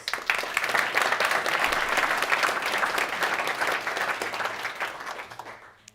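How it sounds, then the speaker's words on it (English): A crowd claps steadily and densely for several seconds, close and fairly loud, then tapers off quickly at the end. "Give Matthias an applause"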